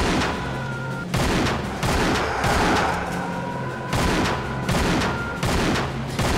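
Gunfire in the video game Tomb Raider: The Angel of Darkness: loud bursts of rapid shots recur about once a second, each a dense crackling volley, with sustained game music tones underneath.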